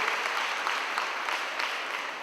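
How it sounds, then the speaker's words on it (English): An audience claps for their school in a continuous, even patter of many hands, moderately loud and steady across the short stretch with no voices over it. "Clap yourself on your school for the support that you have given to us over the years"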